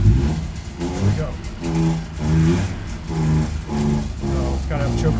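Two-stroke car engine catching and running, its uneven buzzy revving rising and falling in pulses beneath a person talking over it, near and moderately loud.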